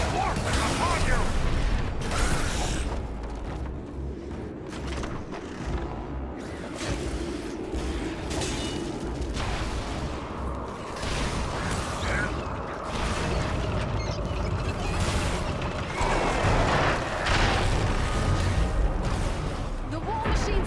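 In The Lord of the Rings: War in the North video game, siege war machines are shoved off a castle wall amid battle, with heavy creaking, grinding mechanisms and crashing impacts under shouting voices and combat noise.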